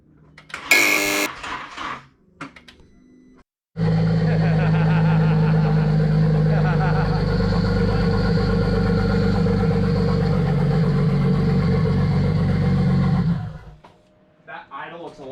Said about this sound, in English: That idle looks a lot nicer.